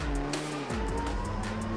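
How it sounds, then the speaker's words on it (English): A drift car at a Drift Masters qualifying round in Spain fires back up after cutting out, its engine rising in pitch and running loud and close amid other engine noise and a brief tire squeal. "Yeah, has to turn the car back on."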